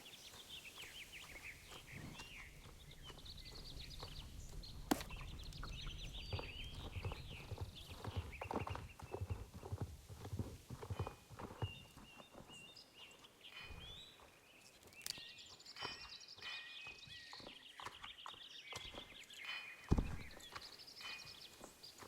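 Horse hooves walking in the video game Star Stable Online, a steady clip-clop of footfalls at a moderate, fairly faint level, with occasional sharper clicks and faint birdsong in the background.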